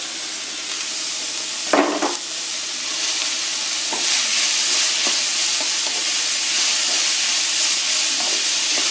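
Finely grated cabbage and carrot sauté in a hot pan with a continuous close hiss and sizzle, broken by a loud clatter early on and a few soft stirring scrapes.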